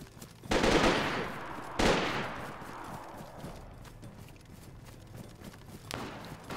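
Gunfire in the video game DayZ erupts from behind in a few sharp bursts, one around the start and another shortly after, followed by scattered distant shots and a late single crack, with no talking over it.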